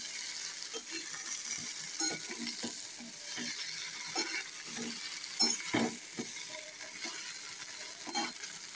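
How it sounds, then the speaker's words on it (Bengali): Fried okra, potato and eggplant being stirred in a pan, quiet sizzling under repeated soft scrapes and clicks of the spatula at an uneven pace. "এর মধ্যে আলু আর বেগুন দিয়ে দিয়েছি। দিয়ে এটাকে এরকম নাড়াচাড়া করবো।"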